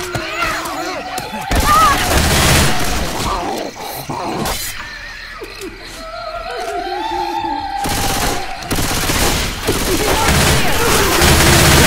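Gunfire and shattering impacts in the zombie shooter Left 4 Dead 2, sharp bursts and crashes across the whole stretch amid game voices and chaotic effects.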